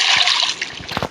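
An iron pickaxe splashes into water in Minecraft: a short, close splash and slosh that settles into a brief trickle within about a second.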